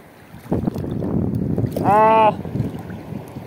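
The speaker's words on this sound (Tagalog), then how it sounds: "Lumakas na yung hangin" Strong wind at sea buffeting a small boat, roaring steadily against the microphone with a brief tonal whine midway, while people talk now and then.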